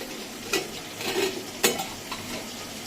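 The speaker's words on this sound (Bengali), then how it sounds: "এই দেখো গরম জল ফুটে গেছে।" Hot water boiling in a pot on a stove while making soup: a low, steady hissing bubble with a few brief clinks and bumps, fairly quiet and without voices.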